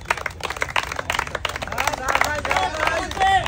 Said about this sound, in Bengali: ভাইয়ের জন্য সবাই একটা জোরে তালি হবে।